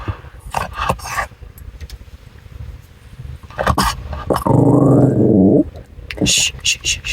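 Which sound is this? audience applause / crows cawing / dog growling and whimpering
dog growling and whimpering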